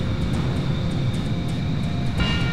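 A-10 jet engine in the video game Ace Combat 4, a steady loud broadband roar with a high whine layered on top, continuous throughout.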